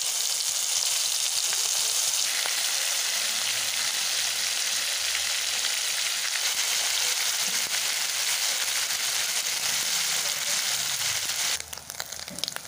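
Prawns deep frying in hot oil, a loud, continuous bright hiss and crackle that holds steady before dipping briefly near the end, with no voices.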